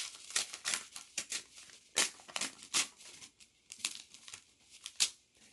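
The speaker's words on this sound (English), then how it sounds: "Gotta open the card first." Paper envelope of a greeting card torn open by hand, a close series of sharp crinkling rips and rustles coming in irregular bursts, with no talking.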